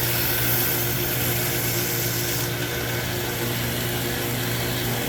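Sanding a leather knife sheath with coarse 36 grit sandpaper, a steady, dense rasping scrape that runs continuously and fairly loud, close up, with no voices.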